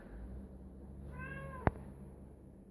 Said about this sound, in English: sorry about that, that is my cat.